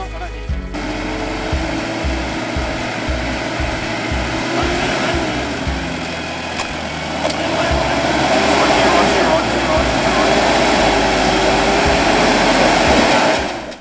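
A Mazda 4WD engine strains continuously as it climbs a hollowed, log-patched forest track in Bunyip Forest, a steady close roar that grows louder and harsher through the second half.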